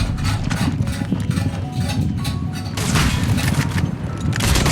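Sniper gunfire in an online shooter game, a dense run of sharp shots and impacts over steady rumbling background noise, continuous and fairly loud throughout.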